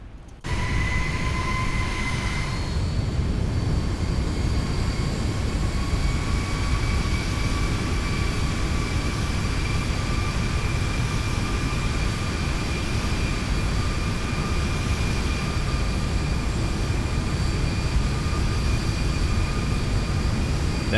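Airliner jet engines in the X-Plane 11 flight simulator, heard from an outside view while cruising: a loud, steady roar with sustained whining tones, continuous and unbroken after a brief quieter start.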